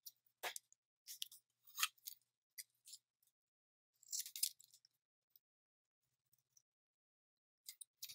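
Scissors snip through adhesive-backed craft paper while a Halloween toilet-paper-roll craft is trimmed: quiet, close, crisp cuts in short irregular bursts with pauses between, no talking.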